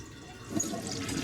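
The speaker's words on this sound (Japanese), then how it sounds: "なんかずっとトイレの水、流れっぱなしになってません？" Toilet water running continuously in the video game Shadows of Doubt, a soft steady hiss of flowing water, faint and muffled as though from the floor above.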